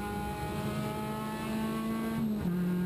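Onboard a Ford Fiesta race car at Silverstone in the 2018 BRSCC Fiesta Championship: the engine drones steadily at high revs, loud and close, with a brief pitch drop as it shifts near the end.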